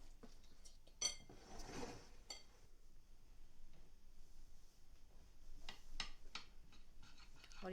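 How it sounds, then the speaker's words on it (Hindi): Boiled egg mashed with mayonnaise in a bowl for egg mayo sandwiches: a few faint, sparse clinks and scrapes of a utensil against the bowl in a quiet room, with no talking. "अब इसे जो है वो अच्छी तरह मिक्स करना है और मैश करते रहना है साथ साथ"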